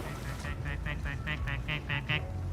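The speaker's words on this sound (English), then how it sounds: "It quacks the Jaws theme." A plastic duck in Placid Plastic Duck Simulator quacks out a rising two-note Jaws-style motif, about ten short honking quacks speeding up over a steady low rumble.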